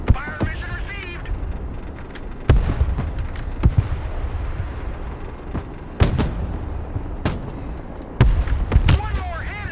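Artillery explosions from a fire mission in Broken Arrow hit as heavy booms spaced every few seconds, with rumbling between them. Radio voices and game chatter talk over the impacts.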